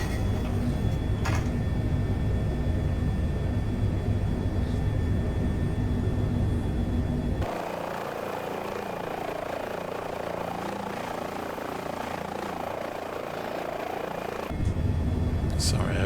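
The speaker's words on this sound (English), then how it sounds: "I do need to fly the helicopter as well." An Airbus H145 helicopter in Microsoft Flight Simulator drones steadily with a dense rotor and turbine hum, the tone shifting abruptly to a thinner, airier cabin sound midway before the heavy drone returns.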